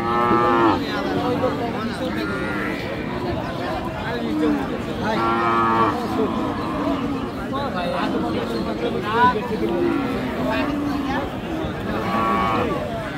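Several cattle, cows and bull calves, moo repeatedly over a busy crowd murmur at a livestock market in Bangladesh, long lowing calls rising at intervals, loud and close amid people talking.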